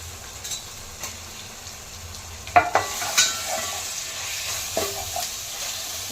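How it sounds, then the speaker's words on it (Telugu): Chicken frying on a low flame in a pan with ginger garlic paste, a quiet steady sizzle with a few sharp scraping stirs near the middle. "మనం కాసేపు సిమ్లో పెట్టుకొని వేయించుకోవాలి చికెన్."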